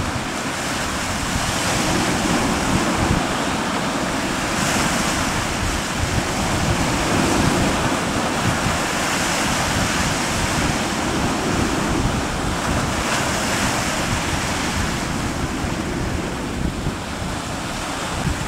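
Large sea waves surge and crash under strong wind at sea, a continuous loud roar of surf and wind buffeting the microphone, with a fishing boat heading out into rough water.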